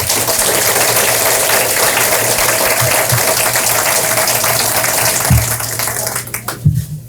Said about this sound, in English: let's give those fine folks a round of applause